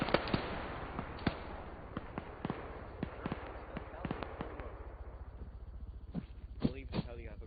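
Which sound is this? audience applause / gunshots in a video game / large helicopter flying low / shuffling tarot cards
gunshots in a video game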